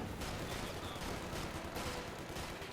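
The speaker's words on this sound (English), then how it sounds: "gunning down the Rangers with the MP40s" MP40 submachine guns firing in Company of Heroes 2, a dense continuous rattle of automatic gunfire mixed with battle noise, steady and fairly faint with no clear gaps.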